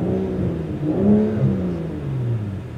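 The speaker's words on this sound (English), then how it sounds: "It makes blow-off valve noises" Engine of a BMW 335i revving and releasing through a blow-off valve, a short loud whooshing, rising and falling whir close by with no talk.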